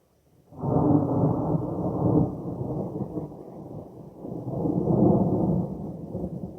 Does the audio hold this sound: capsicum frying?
no